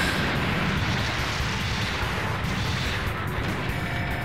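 Heavy, booming shots from the boss Shockwave in the Transformers: Call of the Future game, a dense continuous barrage of low thudding blasts that keeps up for the whole stretch, loud and close.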